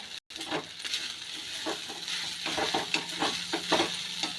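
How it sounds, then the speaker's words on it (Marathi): Sago pearls being stir-fried in a pan make a dry, steady sizzle with scraping and light clinks from a spatula, close up, after a brief silent gap at the start and with no talk. "असा चांगला मोकळा ना असा परतून घ्यायचा साबुदाणा पहिल्यांदा"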